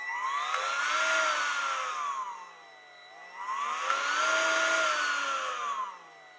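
A repaired Ryobi polisher whines as its motor speed rises and falls in two smooth ramps, each lasting a few seconds, loud and close with no talk.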